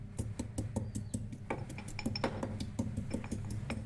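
Chopped ginger pounded in a stone mortar, a fast, regular series of sharp knocking thuds with a clinking edge, close and fairly loud, with no voice.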